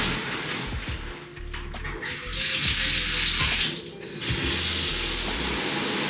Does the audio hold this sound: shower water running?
yes